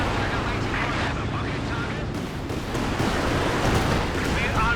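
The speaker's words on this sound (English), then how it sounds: "Going for a heavy mortar strike on that as well" Heavy mortar strike from Company of Heroes 2 rumbles as a continuous, loud, dense blast and eruption wash of battle noise for the whole span, with a brief dip midway and talk mixed in underneath.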